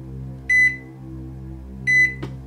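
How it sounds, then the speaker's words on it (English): A microwave oven runs with a steady low electrical hum throughout. Two short, bright beeps sound about a second and a half apart, followed by a faint click. No one speaks. "You can't run an empty microwave."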